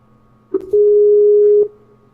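Steady electronic telephone tone while redialing a dropped call, a single pure beep held for about a second after a short click, loud and close, then cutting off to quiet background.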